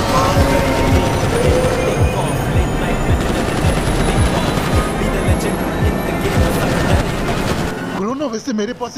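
Drones flying in an action video game, a loud whirring rotor drone with rhythmic thumping pulses and engine buzz, continuing steadily before cutting to a brief burst of other game sounds.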